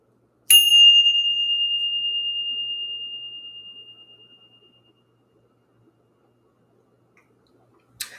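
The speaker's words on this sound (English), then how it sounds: "Let's go ahead and ring the bell." A single bell is struck once, ringing out with a clear pure tone that decays slowly over about four seconds into silence, followed by a faint click near the end.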